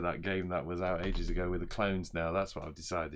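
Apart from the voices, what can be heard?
No distinct noise like a dog, phone or traffic.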